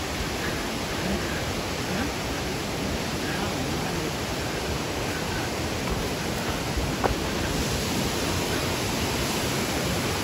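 Langlok waterfall near Thanchi, Bandarban pours with a loud, unbroken roar of rushing water that fills the whole scene evenly from start to finish.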